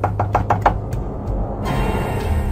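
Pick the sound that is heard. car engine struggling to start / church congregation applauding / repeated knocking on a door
repeated knocking on a door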